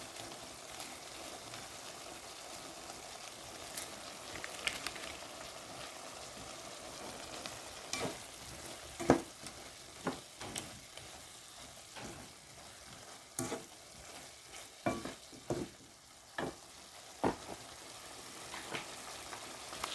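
Chicken pieces for a Filipino coconut chicken curry sizzle steadily in a hot pan, with scattered spoon scrapes and clacks against the pan as they are stirred, fairly close and with no talking.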